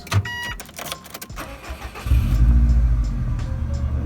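A Subaru Impreza WRX engine cranks with a few clicks and starter bursts, then catches and settles into a loud, steady idle rumble, heard close up with no talking.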